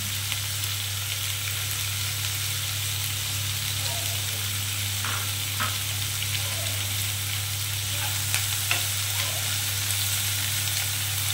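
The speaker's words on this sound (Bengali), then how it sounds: "আমি আঁচটাকে বাড়িয়ে বাড়িয়ে প্রথমে এটাকে ভালো করে একটু ভেজে নেব" River snails (gugli) fry in hot oil over high heat, a loud, even sizzle with scattered pops and faint scraping, alongside a steady low hum.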